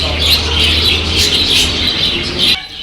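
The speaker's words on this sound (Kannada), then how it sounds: "ಇಲ್ಲಿ ನೋಡಿ ಎಷ್ಟೊಂದು ಲವ್ ಬರ್ಡ್ಸ್ ಇದೆ" A flock of lovebirds at the Subrahmanya Swamy temple chatters in a constant, bright twittering chorus that cuts off abruptly just before the end.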